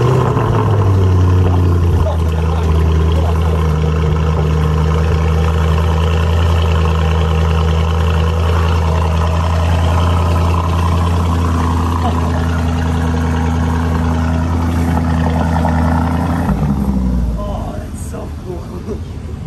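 A 2021 Lamborghini Urus engine runs with a deep, steady low rumble at idle, holding loud and even for most of the span before the tone drops and settles lower near the end.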